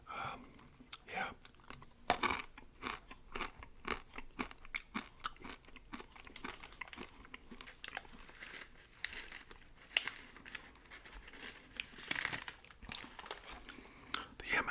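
A candy bar is chewed close to the microphone, with crunchy bites, wet chewing and wrapper crinkles in an irregular rhythm, quiet and intimate, with soft whispering mixed in.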